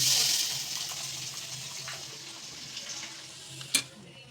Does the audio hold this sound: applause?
no